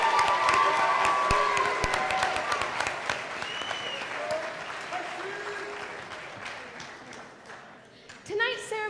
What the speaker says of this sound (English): Let's give another round of applause to Bob Carlson and the LHS Jazz Band.